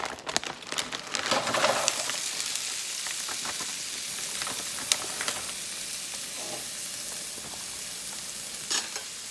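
Frozen Aldi chicken lo mein noodles and vegetables sizzle steadily in a hot pan, a dense crackling fry with scattered sharper pops and some stirring, loud and close with no talking.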